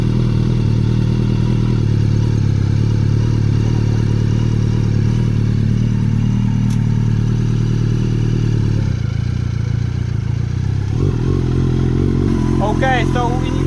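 A motorcycle engine idles with a steady low rumble close by and then revs as the clutch is slowly released in first gear, with some clatter near the end.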